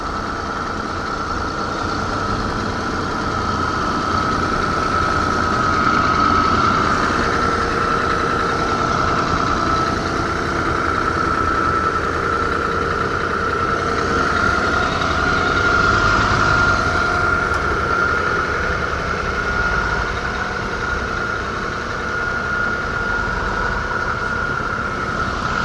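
A tractor engine idling steadily during an off-road vehicle recovery, a loud, constant mechanical drone with a faint knocking vibration that holds for the whole stretch without talking.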